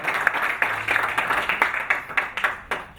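An audience at a press conference for Moroccan Muay Thai champion Youssef Boughanem gives brief, modest applause: a few hands clapping in a loose, uneven rhythm, fairly close, that thins out toward the end.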